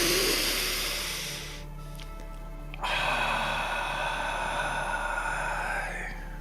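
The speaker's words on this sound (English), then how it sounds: "We're going to take 3 nice deep breaths in through our nose, exhaling through our mouth" A long, noisy breath drawn in, a short pause, then a long breathy exhale, heard up close over a low steady hum.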